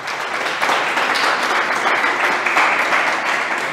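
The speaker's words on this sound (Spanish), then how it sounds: "Un aplauso para Jesús por eso." Church congregation applauding for Jesus, a steady, loud wash of clapping from many hands that holds without pause throughout.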